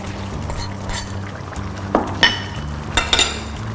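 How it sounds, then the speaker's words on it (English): Spinach tossed into a hot wok of asparagus and other vegetables, giving a few brief rustling clatters and soft scrapes close by, with quiet gaps between them and no voices. "Right, let's add our spinach."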